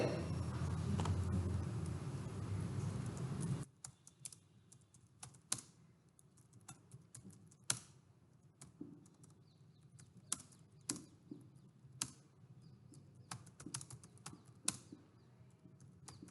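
A computer keyboard being typed on, heard as sparse, irregular, quiet keystroke clicks after a few seconds of louder broadband noise at the start. No one speaks.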